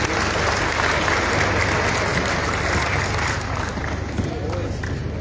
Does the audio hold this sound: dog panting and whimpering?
no